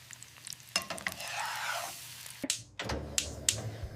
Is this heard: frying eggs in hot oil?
yes